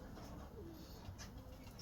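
Pigeons being readied for a show, cooing softly in a low, steady murmur with faint bird calls against a busy background.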